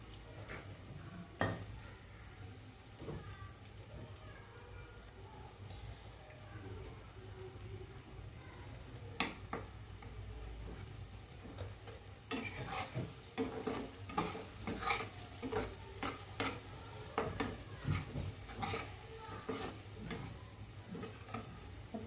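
Onion and tomato fry in oil with turmeric, a soft steady sizzle broken by frequent clicks and scrapes of stirring that turn denser and more rhythmic in the second half; quiet throughout with no voices.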